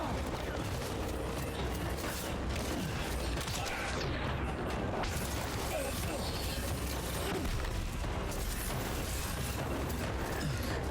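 Gunfire in the video game Death Stranding, dense and continuous, bursts of shots mixed with mechanical clatter and a constant loud wash of game noise throughout.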